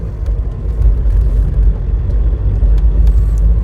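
A Tata Safari accelerating hard at full throttle, its engine a loud, steady low rumble and roar heard close up from inside the cabin, no talk.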